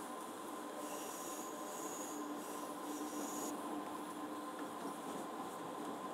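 Faint video-game German high-speed electric passenger train with eight cars rolling steadily on the Munich–Augsburg main line, with a continuous rail hum and light wheel squeal, no voices.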